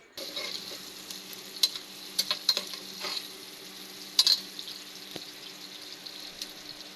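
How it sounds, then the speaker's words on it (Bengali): Onion, green chili and bay leaves frying in oil in a wok, with a soft, steady sizzle and scattered sharp crackles and pops. The frying stays fairly quiet and no one speaks. "কড়ায় পেঁয়াজ মরিচ আর তেজপাতা দিয়ে দেওয়া হয়েছে সঙ্গে তো তেলে দেওয়া হয়েছে"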